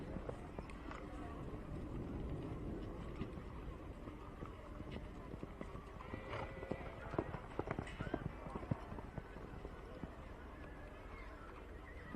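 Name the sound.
horse hooves clip-clopping during campdraft run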